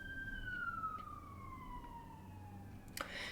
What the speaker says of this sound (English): Sirens usually mean no.